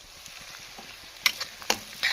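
Onions fry in a pan at home with a soft, steady sizzle, broken by a few sharp scraping stirs of a spoon, fairly faint and close with no talking.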